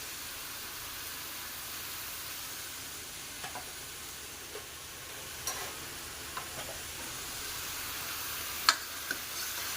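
Spices and green chili paste fry in a pan, giving a soft, steady sizzle with scattered small pops and ticks. The sound stays quiet and close throughout.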